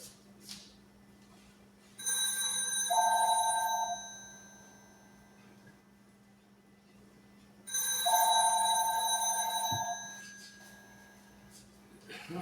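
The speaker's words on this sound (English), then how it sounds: "I'm sure you hear that aggravating phone ringing." A telephone rings in a home kitchen where turnip greens are cooking: two long electronic ring bursts separated by a pause, moderately loud, with a low steady hum underneath.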